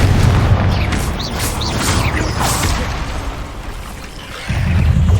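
Confringo fire spell blasts in the Hogwarts Legacy video game, heavy booming impacts with whooshing bursts and crashing debris, loud and close, one blast fading before another hits.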